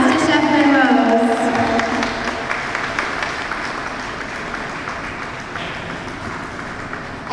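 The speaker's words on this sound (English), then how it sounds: "A huge round of applause" Audience applause and cheering for the winner of a live cook-off at a tasting showcase, a broad sustained wash of clapping that stays loud throughout with voices mixed in.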